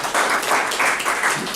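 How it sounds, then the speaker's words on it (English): Applause from an evening audience greeting a speaker, a short burst of clapping at moderate loudness in gently pulsing waves lasting under two seconds. "A round of applause, if you will."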